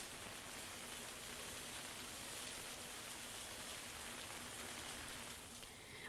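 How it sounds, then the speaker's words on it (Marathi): Rain falls steadily in Nanded, India, a downpour that began at dawn, heard as an even, faint hiss of drops with no breaks and no voices. "नांदेडमध्ये पाऊस पहाटेपासूनच सुरू झालेला आहे. मुसळधार काही ठिकाणी मध्यम स्वरूपाचा पाऊस पडतोय."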